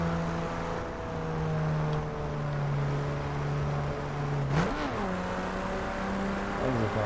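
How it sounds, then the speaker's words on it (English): A 2011 BMW Z4 street edition tuned to 412 hp drones steadily from inside the cabin while driving, with a brief rev surge around a gear shift partway through. "This is one loud car"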